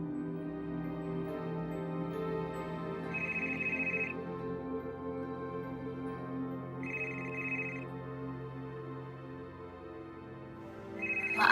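A telephone ringtone chirps in short bursts, repeating three times at intervals over a quiet indoor background with a low steady musical hum.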